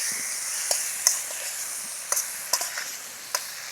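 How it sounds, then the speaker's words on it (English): Shrimp for a Jamaican pepper shrimp dish sizzles steadily in a hot pan with a soft, constant hiss, broken by a few sharp clicks and scrapes as it is stirred. "And we're just gonna keep stirring until it starts to change color"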